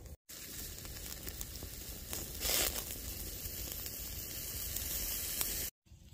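Little sausages sizzle steadily in a pan on a camp stove outdoors at Joshua Tree, a close, continuous hissing crackle with one brief louder flare partway through and no talking.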